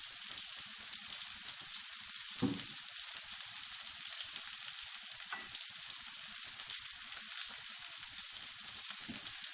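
Oil sizzles steadily in a pan for a garlic eggplant dish, a continuous soft crackling hiss with a faint tap or two, heard alone.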